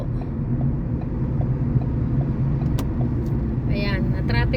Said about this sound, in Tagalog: Ay, traffic.